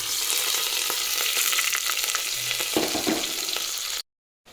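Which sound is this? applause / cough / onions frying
onions frying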